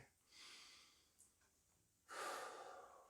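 Slow, quiet breaths during a hamstring stretch in a home workout: a soft exhale, a brief sniff, then a louder, fuller breath out near the end.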